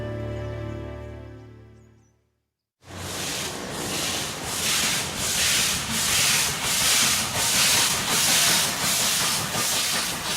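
A steam locomotive of the Pondicherry Special runs on the Southern Railway near Palur station in India, a loud close rush of rhythmic chuffing hiss pulsing about once a second after a brief quiet pause, with no talking.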